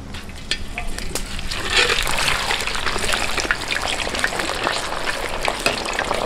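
Pork belly for chicharon bagnet fries in very hot oil at an outdoor cooking setup, giving a loud, continuous sizzle with sharp crackles and pops all the way through.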